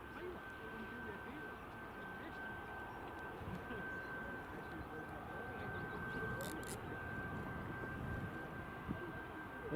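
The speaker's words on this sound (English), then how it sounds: "Oh, 737 Max is taxiing." A Boeing 737 MAX airliner taxis at Glasgow Prestwick Airport, heard as a steady, distant jet engine rumble and hiss with a faint high whine running throughout.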